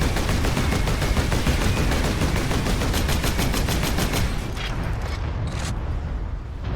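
Bolter firing in the Warhammer 40,000 game Space Marine, a dense, loud rapid stream of heavy gunshots that runs continuously, then eases off slightly toward the end with some sparser, sharper reports.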